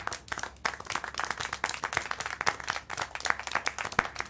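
Scattered hand claps in the video game Syberia The World Before, a sparse, uneven smattering of sharp claps of varying loudness repeating through the moment, close and clear over a faint low background hum.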